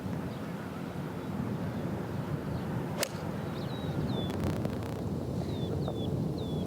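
Strong wind buffets across an open golf course, a steady broadband roar against the microphone with a sharp crack partway through and faint chirping birds in the distance.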